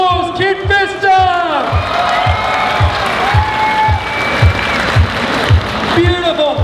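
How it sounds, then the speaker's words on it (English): A stage audience at a gaming expo cosplay session applauds and cheers for cosplayers, dense clapping and whoops throughout, with a loud amplified host voice talking over the crowd. "let's have a massive, massive round of applause every cosplayer who got on stage!"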